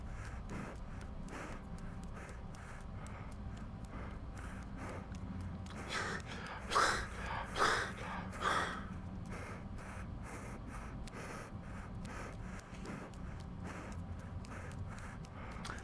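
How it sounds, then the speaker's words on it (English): Heavy, audible breathing from the player character in the horror game Penance, steady and close over a low ambient drone, with a few louder, sharper gasping breaths clustered near the middle. "The breathing is also very loud."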